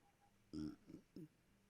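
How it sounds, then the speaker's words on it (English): A short burp in a podcast-style conversation, one low guttural burst followed by two smaller croaky bumps, close and fairly quiet. "Oh, sorry, I had to burp."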